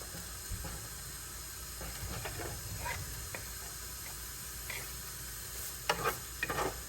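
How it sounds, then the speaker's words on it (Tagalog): Garlic and onion sautéing in hot oil for fried rice, a steady sizzle with scattered spatula scrapes and a few sharper clatters near the end, no voices. "Lagay na po natin yung ating bawang tsaka sibuyas."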